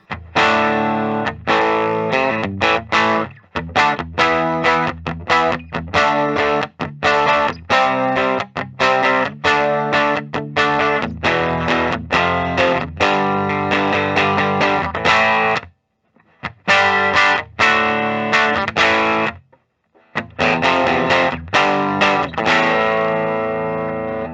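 Distorted electric guitar, a 2021 Gibson Les Paul fitted with Telecaster pickups, playing a riff of choppy chords and single notes, rhythmic and punchy, with a couple of brief silent breaks before resuming.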